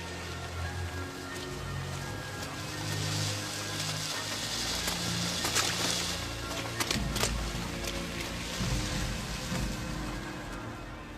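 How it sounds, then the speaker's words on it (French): Acid rain pours steadily in an action film scene, a dense continuous hiss of falling water with scattered patters and mechanical clicks over a low rumbling score. "Il y a de la pluie acide, dépêchez-vous."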